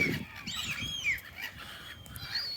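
Birds calling in Oslo harbour while being fed, a mix of honking and squawking cries, some overlapping, moderately near over quiet outdoor background noise.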